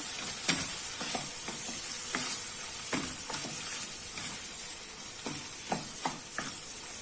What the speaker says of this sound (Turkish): Şöyle bir yemek kaşığı kadar tereyağı attım içerisine. Bu şekilde kavuracağım.